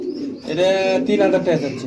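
A pair of fancy pigeons, a male beside a female sitting on eggs, make a close, throaty cooing with swelling, wavering phrases, loud and near.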